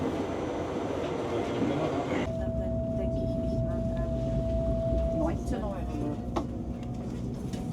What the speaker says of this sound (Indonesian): Kereta mulai diberangkatkan meninggalkan stasiun Vienna Central.